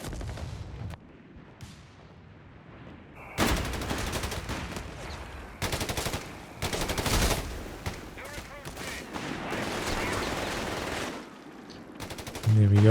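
Sustained bursts of machine gun fire crackle through a Company of Heroes 3 battle, loud and dense from around the third second onward, with brief gaps between volleys and scattered distant gunfire beneath.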